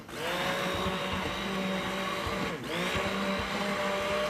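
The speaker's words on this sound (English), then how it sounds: "I'm going to mash it up with my immersion blender." An immersion blender mashes peaches in a pot for jam, a steady, loud motorized whir running continuously with a brief dip partway through.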